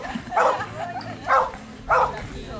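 A rescue dog at a dog festival gives three sharp, fairly close barks spaced about a second apart, with some background murmur.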